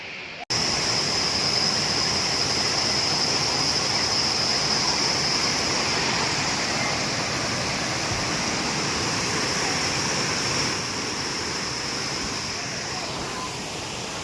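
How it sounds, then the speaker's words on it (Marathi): A monsoon waterfall in heavy rain roars nearby in a loud, unbroken broadband rush, holding steady for the whole stretch with a faint high tone riding above it. "तो मस्त भारी आहे धबधबा आहे"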